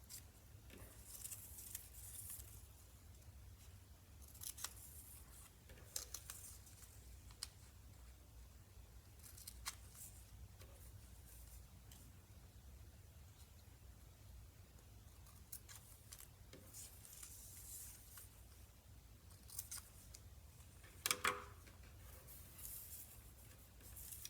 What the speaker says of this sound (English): these parts that have slots, you're just going to snip like that. That's it. So snip all the slots.